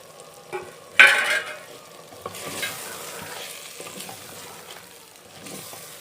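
Potatoes tumble into a pan of frying ridge gourd (tori) with a sharp splash of sizzle, followed by close, steady frying hiss and scraping stir strokes, with no voices.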